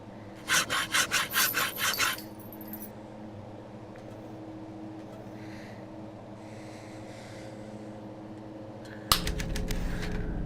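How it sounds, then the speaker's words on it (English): Hacksaw sawing in a VR puzzle game: a rapid run of about six rasping back-and-forth strokes, then a low mechanical hum, with a burst of harsh noise at the end. "Oh, we've got a hacksaw."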